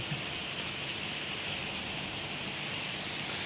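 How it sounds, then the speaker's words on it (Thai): Dense, constant storm rain falls in a steady wash of hiss and patter in Mahachai, Thailand, with no voices and no breaks. "ฝนตกแรงมากเลยครับ"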